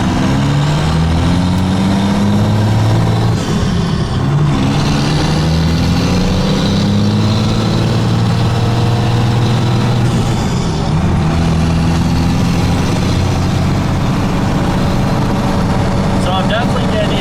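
A first-generation truck, around 30 years old, drives on a test run, its engine droning steadily with shifting low tones and occasional air-brake hisses. The sound is loud and continuous, and voices talk over it.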